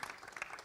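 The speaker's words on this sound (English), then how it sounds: "A big round of applause for them too." Brief, faint applause from the crowd at a Jungle Book press conference in India, a thin patter of clapping.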